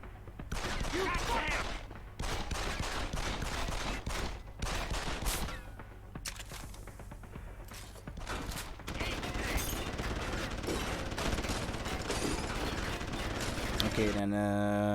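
Enemy gunfire erupts in Deus Ex: Human Revolution Director's Cut, rapid bursts of automatic shots and sharp single cracks repeating across the clip with brief gaps, alongside mechanical clicks and someone talking over the shooting.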